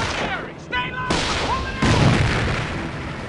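Gunfire and heavy explosions rip through a Company of Heroes Online battle, with dense broadband booms and overlapping bursts of fire running continuously. Shouted in-game voice callouts cut through the barrage.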